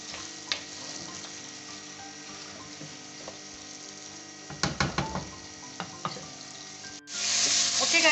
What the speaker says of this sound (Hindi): और अब हम इसको भूनेंगे।